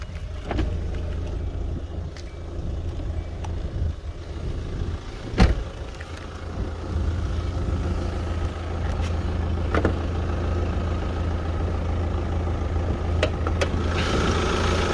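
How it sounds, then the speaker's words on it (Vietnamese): A 2003 Hyundai Santa Fe engine idles steadily with a low, continuous rumble, heard close up and alone, with one brief knock partway through. "Đây cho mọi người xem tiếng máy nha."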